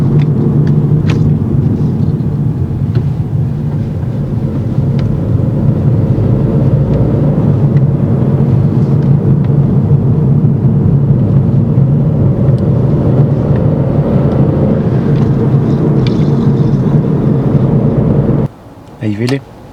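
A car moves through a roundabout during a driving test, giving a loud, steady interior engine and road rumble that continues for most of the stretch and cuts out abruptly near the end.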